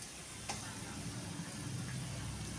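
Cumin and a piece of ginger fry in hot oil in a pan, a soft, steady low sizzle with faint crackles and occasional light ticks, heard alone and quietly.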